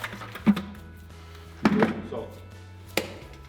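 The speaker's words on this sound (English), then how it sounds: "So you flick it like that, it helps the mortar stick, okay?" Mortar flicked off a trowel onto a brick joint during repointing makes three soft, separate slaps spread over a few seconds, quiet and close, with faint room noise between them.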